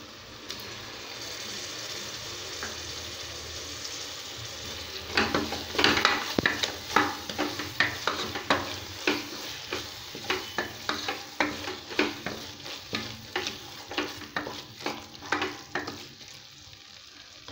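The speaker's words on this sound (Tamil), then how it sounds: "தயிரும் சேர்த்து நல்லா மிக்ஸ் பண்ணியாச்சு" Curd being stirred into mushroom biryani masala in a pan: a low sizzle runs underneath while a spoon scrapes and slaps the pan in a quick, regular rhythm of repeated strokes, close and fairly clear, with no speech.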